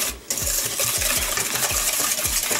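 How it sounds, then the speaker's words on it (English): A whisk beats brownie batter in a bowl, with steady rhythmic strokes and repeated clinks of metal against the bowl, about two per second, close and alone. "so you want to whisk this for about a good minute or minute and a half."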